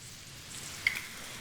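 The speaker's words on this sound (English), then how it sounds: "And just saute it for about 7 minutes until they're all nicely cooked and really tender" Vegetables sautéing in a pan with salt and pepper, a quiet, even sizzle with a brief tiny pop partway through.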